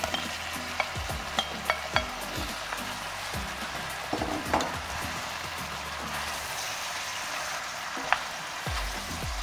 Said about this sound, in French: je vais y remettre ma viande et mes lardons